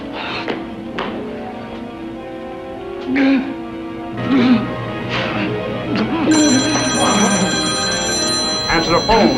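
Telephone bell ringing in a 1962 film, repeated rings sounding in short bursts over an indoor scene, with a voice talking over and between them.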